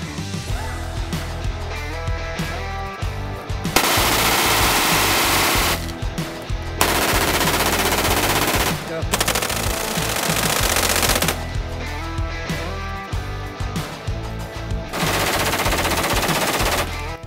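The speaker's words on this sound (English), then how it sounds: "We took both rifles to the range on a hot Florida day and ran 450 rounds through each" Rapid bursts of gunfire from two 11.5-inch AR rifles, one piston-driven and one direct impingement, at an outdoor range on a hot Florida day, loud sustained strings of shots separated by short pauses.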